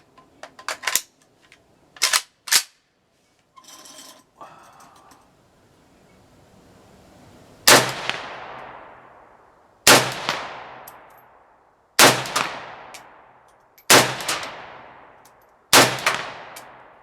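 Romanian RPK MD64 rifle firing outdoors, five loud, evenly spaced single shots about two seconds apart, each with a long decaying echo, preceded by metallic handling clicks and rattles.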